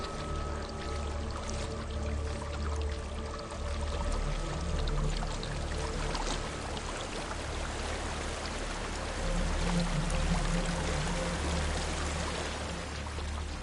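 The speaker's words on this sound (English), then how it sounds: "There's a waterfall." A waterfall in Hellblade: Senua's Sacrifice pours in a steady, broad rushing wash, mid-distance and constant, beneath low droning ambience.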